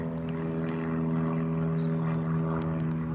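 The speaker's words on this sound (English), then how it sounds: "Oh, it's a single engine plane." A single-engine propeller plane drones steadily overhead above a park, its low engine hum continuous and moderately distant, with faint outdoor ticks and chirps around it.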